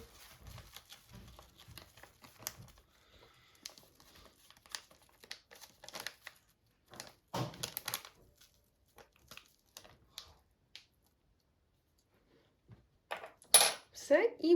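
Flour and baking powder being stirred in a bowl with a utensil, soft scraping and clinking in short bursts, close by and fairly quiet.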